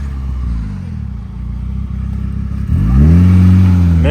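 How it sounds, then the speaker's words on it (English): A small turbocharged Honda Civic race build idles with a low, lumpy rumble, then revs up loud and close at about the three-second mark and holds a raised, rising engine note. "Sounds like a turbo Civic."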